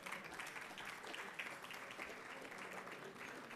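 A dinner audience applauds, a steady wash of many hands clapping, moderately distant and fairly faint, sustained throughout with no talk over it.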